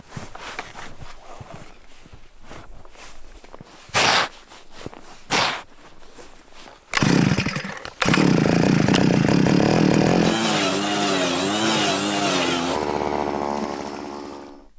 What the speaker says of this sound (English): We're gonna go ahead and get the rest of our holes drilled.